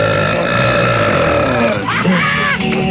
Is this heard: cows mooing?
no